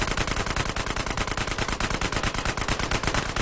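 Continuous rapid automatic gunfire in GTA San Andreas, with dense, evenly spaced loud shots rattling without pause for several seconds and no voices over them.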